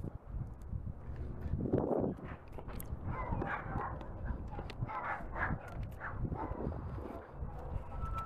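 Dogs bark outdoors near a trailer, with sharp, repeated barks and yips scattered over several seconds at moderate distance, and no talk.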